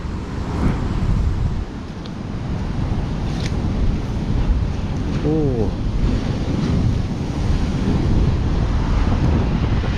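Big ocean waves roll in at Seruni beach in Pacitan, a constant surf roar heavily buffeted by wind noise on the microphone, with a brief voice partway through.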